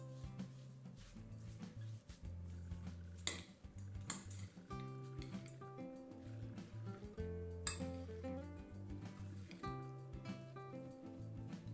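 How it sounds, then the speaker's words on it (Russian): A spoon works through rice kutia mixed with walnuts and honey, giving soft, irregular clinks and scrapes against the bowl, quiet and close, while music plays steadily underneath. "Тщательно перемешиваем."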